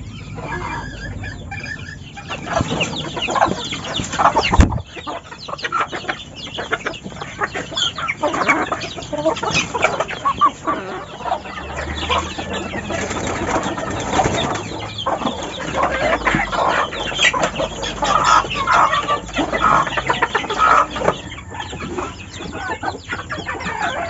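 Several roosters, gamecocks at morning feeding, cluck and squawk close by for a long stretch, with a sharp thump near the start and steady barnyard bustle throughout.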